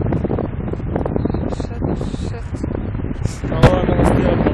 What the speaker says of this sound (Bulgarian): Вау, какъв силен вятър сега задуха.